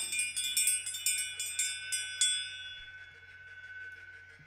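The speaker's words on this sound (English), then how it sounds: "As you hear my bell ring, you can let yourself" A clear bell is struck about eight times in steady succession, then its bright ringing tone fades away slowly over a low background hum.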